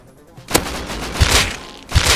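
Gunfire in the video game Rust at a quarry: several sharp shots, one around the middle and a pair of close, loud bursts near the end, over low game background.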